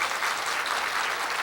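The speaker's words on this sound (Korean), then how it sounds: "우리 격려하는 박수 한번 쳐주십시다" A church congregation claps in encouragement, a brief, fairly soft but continuous patter of applause with no voices over it.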